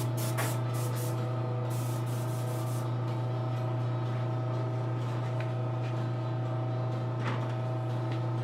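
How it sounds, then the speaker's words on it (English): An airbrush sprays chrome lacquer paint in a steady, continuous hiss with no breaks, close and fairly loud over a constant low machine hum, likely the compressor. "This stuff is strong too, so be careful if you spray this heavy."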